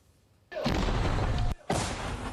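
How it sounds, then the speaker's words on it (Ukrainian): Two heavy booms from a brigade's artillery gun firing toward Avdiivka, the first long and roaring, the second following about a second later, both loud and close with no talk. "Гармата бригади короля Данила гатить в бік Авдіївки."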